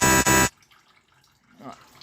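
A work phone app notification rings out loud and close as two rapid buzzing electronic tones, then cuts off, leaving a quiet garage during a Vauxhall Vivaro engine service.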